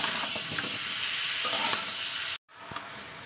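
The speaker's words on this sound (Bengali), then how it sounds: "ভালো করে কষিয়ে নিচ্ছি।" Tilapia fish and raw green banana sautéed with salt and turmeric, a steady close sizzle and frying hiss with spoon stirring scrapes, briefly cutting out before the sizzle resumes.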